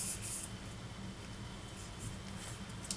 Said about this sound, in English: I'm going to spray this a little bit with hairspray